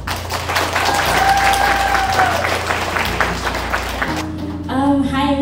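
Audience applause for a speaker invited to the stage at a Vietnamese American community discussion, steady dense clapping from a crowd with music underneath, then a voice briefly starts talking.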